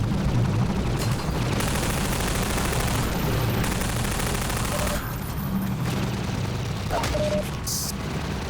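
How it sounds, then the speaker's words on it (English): Enemy gunfire in Half-Life 2 sounds as a dense, continuous barrage of overlapping shots with heavy rumbling impacts, loud and unbroken for the whole stretch with no speech over it. "So many dudes shooting at me!"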